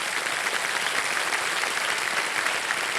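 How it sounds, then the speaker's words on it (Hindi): A studio audience on a television quiz show applauds a contestant, a steady, even wash of many clapping hands that holds at moderate loudness without pause, no voices heard. "ताली बज जाए इनके लिए।"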